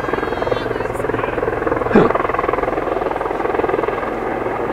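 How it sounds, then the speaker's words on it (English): A helicopter near an outdoor girls' softball game beats out a loud, steady rhythmic rotor throb, with a brief voice breaking through partway. "it's a big day for helicopters, Dennis"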